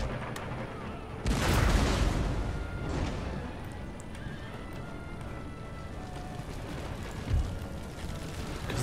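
Artillery fires during an Empire: Total War battle against line infantry, a heavy boom followed by rumbling and a later thump, set against steady battlefield din with horses and faint distant gunfire.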